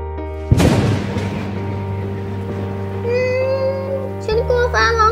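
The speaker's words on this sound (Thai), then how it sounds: "ฉันกลัวฟ้าร้องจังเลย" Staged thunder for a Barbie toy-doll rain scene cracks once, loud and sudden, then rumbles away beneath a steady low hum, with bright playful voices and tones rising near the end.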